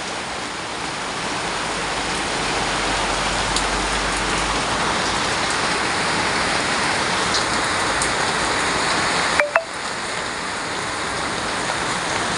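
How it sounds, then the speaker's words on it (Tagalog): Heavy rain from Typhoon Carina in the Philippines pours down as a dense, steady hiss of drops on surfaces, with one brief knock partway through. "Malakas talagang ulan mga kaibigan."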